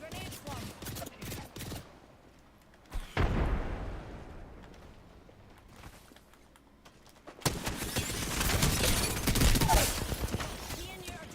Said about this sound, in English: Grenade flung.